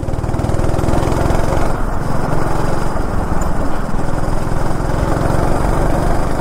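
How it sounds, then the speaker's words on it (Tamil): A two-stroke go-kart engine at a Chennai track runs close and loud, a continuous raspy buzzing drone with steady throttle and no pauses. "அது 2-ஸ்ட்ரோக் இன்ஜினு"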